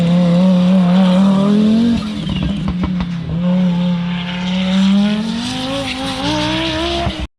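Audi Pikes Peak Quattro Group B rally car at a rally festival, its engine roaring loud and near as it revs up and down through gear changes, with brief crackles between pulls.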